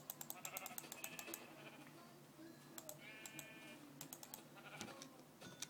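Sheep in the video game Minecraft bleat in short wavering cries over rapid keyboard typing and clicking, the bleats close and recurring across the clip.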